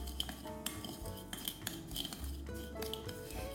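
Bread dough yeast mixture being stirred in a bowl, a utensil scraping and clinking against the dish in quick repeated strokes, close and moderately loud with kitchen background and no talk.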